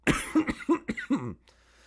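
A run of about five sharp, raspy coughs in quick succession, close and loud, then quiet.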